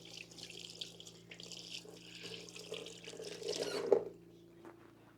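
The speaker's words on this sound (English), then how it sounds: "Now I'm going to wash my hands." A kitchen faucet running into the sink while hands are washed: a steady, soft stream of water with a slight splashy rise near the end before it shuts off, no talking.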